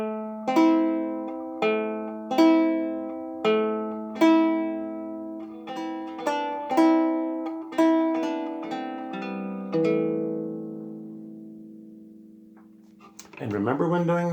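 On a lyre, plucked notes ring out in a steady pattern of thumb and finger strokes, each bright pluck decaying before the next, ending in a long fading note followed by a soft noise.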